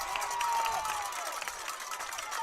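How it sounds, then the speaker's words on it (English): A crowd at a high school football game grows loud with a sustained distant roar and scattered cheering, with a commentator's voice heard faintly over it. "Crowd trying to get real loud."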